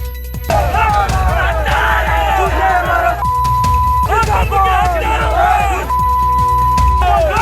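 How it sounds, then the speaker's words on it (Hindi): Crowd of Congress workers in Gwalior chanting 'traitor' slogans against Scindia outside the palace, loud rhythmic shouted chants filling the whole clip with brief pauses between bursts. "ग्वालियर में सिंधिया के खिलाफ गद्दार गद्दार के नारे लगे।"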